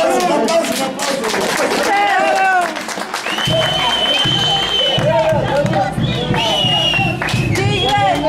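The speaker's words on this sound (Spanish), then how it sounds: "um aplauso, um aplauso. Um aplauso." An audience applauds at a folkloric festival in Cantón Audiencia, Pacajes Province, La Paz, Bolivia, with loud crowd clapping mixed with voices and whistle-like tones throughout.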